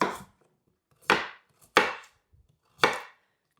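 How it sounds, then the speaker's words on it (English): Carrots being chopped into circles with a knife on a board for lamb stock, four crisp, separate chops spaced about a second apart, close and clear with quiet between strikes. "just chop them into circles"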